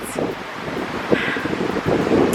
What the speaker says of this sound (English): That is windy, guys.